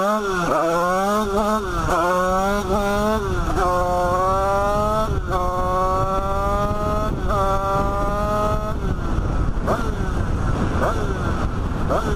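A 70cc Bidalot moped pulls away close by, its engine rising through repeated revving climbs as it changes gears, then settling into a loud, steady drone.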